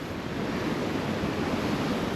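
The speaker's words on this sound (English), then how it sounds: "This is a lot more water flow than when I first got here back in March." River running high after heavy rain near Matagalpa, Nicaragua, a dense, steady broadband rush of flowing water that holds at an even level throughout with no voices.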